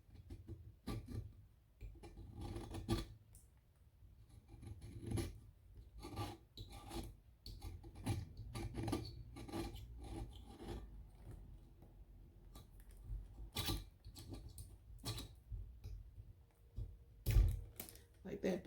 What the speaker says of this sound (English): Pick at any epoxy that built up and made puddles in there.